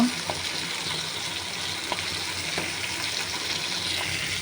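Pangas fish frying in a little oil in a pan while being turned, giving a steady close hiss of sizzling with faint scraping touches and a few soft clicks throughout.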